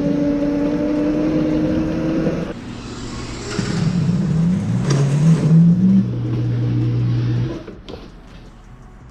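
A Tesla Cyberquad electric quad, fitted with a Kunray brushless motor, runs at top speed outdoors. Its high motor whine climbs steadily in pitch over a broad rush of wind and road noise, then drops off near the end.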